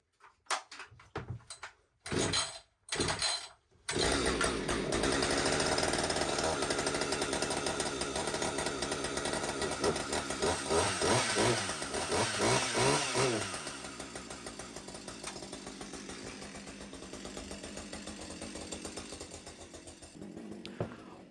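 A chainsaw engine idles steadily as it warms up after a few short starting bursts, a loud continuous buzzing drone close by, with some faint talk early on.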